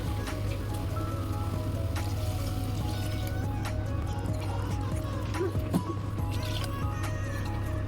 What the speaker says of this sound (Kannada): ಇದಕ್ಕೀಗ 2 ಕಪ್ಪು ನೀರು ಹಾಕ್ತಾಯಿದ್ದೀನಿ